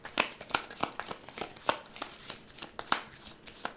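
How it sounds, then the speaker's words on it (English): A deck of game cards being shuffled by hand, heard as a quick series of riffling snaps and flicks, close and clear, with no voices. "Encounter deck is shuffled."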